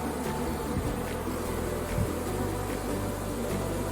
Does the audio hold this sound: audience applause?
no